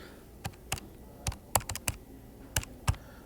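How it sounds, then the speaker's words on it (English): Typing on a computer keyboard, about ten close, crisp key clicks in an uneven rhythm with short pauses, no speech. "I don't know why I'm typing that in."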